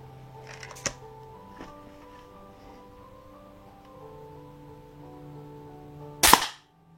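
A Black OPS Soul Langley air gun fires H&N pellets in two sharp, close shots, a fainter one early and a louder crack near the end, over a quiet background hum.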